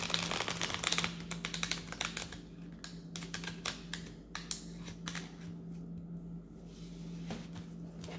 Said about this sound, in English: So I'm just shuffling the deck a little bit.